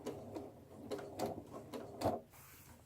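A sewing machine backstitches a seam on a bunny gift bag, producing a quiet series of short, irregular mechanical clicks and whirs close by with brief gaps between them.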